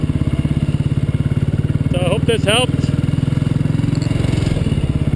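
A Royal Enfield Bullet single-cylinder engine idles close by with a steady, fast thumping pulse throughout, while someone talks briefly over it.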